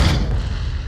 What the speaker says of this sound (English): The rocket launcher consists of 4 parts.